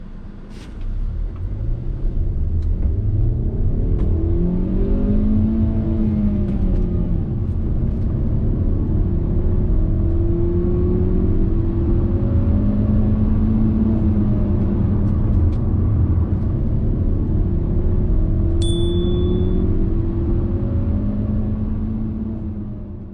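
A 2024 Hyundai Creta SX Tech petrol manual accelerating from 0 to 100 km/h, loud steady engine and road rumble heard from inside, with engine tone rising and dropping through successive gear changes.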